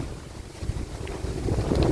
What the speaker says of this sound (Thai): บรรยากาศลมๆ